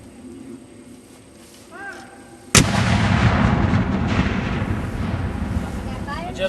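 A cannon fires during a Civil War artillery demonstration at Chickamauga Park, a single sharp, loud blast followed by a long rumbling echo across the open field, after a quiet outdoor stretch with birds chirping.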